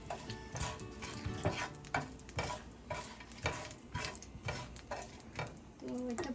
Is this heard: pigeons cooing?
no